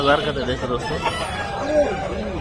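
Chickens cluck and squawk at a busy poultry market in Hyderabad, close and fairly loud, with people talking and chattering over the birds.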